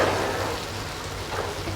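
Dried chili paste sizzling as it fries in oil in a pan, a steady hissing crackle like light rain, close and even throughout.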